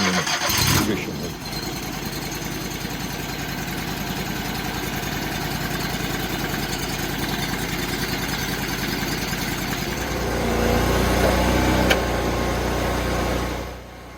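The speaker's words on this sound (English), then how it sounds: "This is a 38 horsepower Kohler twin cylinder engine that it needs to operate this machine efficiently." A Kohler 38 hp twin-cylinder engine on a Typhoon firewood processor cranks over and starts, then settles into a steady idle that rises in pitch and load near the end. A voice talks over part of it.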